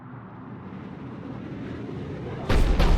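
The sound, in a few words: cannon firing in Mass Effect video game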